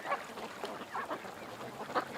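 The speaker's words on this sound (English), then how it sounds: "Quacking away. They're so loud." Ducks quacking loudly outdoors near a house, a steady overlapping chatter of honking calls that rises and falls, with louder bursts at the start and near the end.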